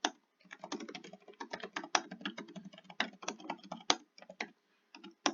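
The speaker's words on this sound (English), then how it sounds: "So I'm going to type that fact in." Rapid typing on a computer keyboard, a close, irregular stream of light key clicks with brief pauses, with no voices.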